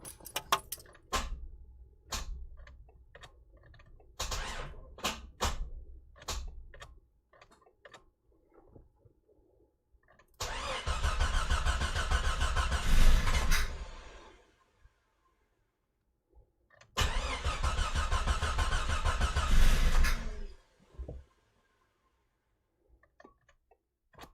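Rebuilt 4.0 engine in a Jeep XJ cranks on its first start, two steady whirring bursts of about four seconds each that never catch, preceded by scattered key jingles and clicks.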